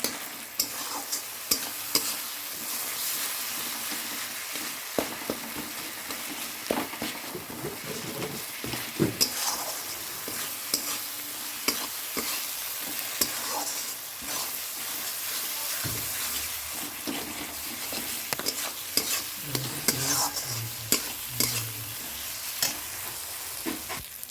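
Onion and spice paste for a crab curry is stirred and sizzled in a pan, with a quiet, steady frying hiss and repeated sharp spatula knocks and scrapes spaced through the stretch.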